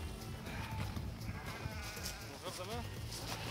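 Sheep bleating in a mountain setting during a hunting trip, several wavering bleats rising near the end over a steady noisy background with people talking.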